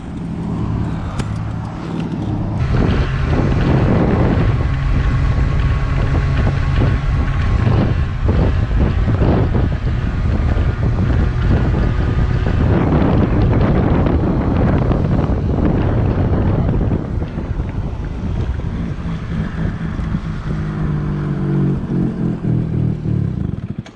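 A Zuma 50F scooter with a swapped two-stroke engine on a test ride: loud, continuous engine buzz rising and holding under heavy rushing wind noise on the microphone.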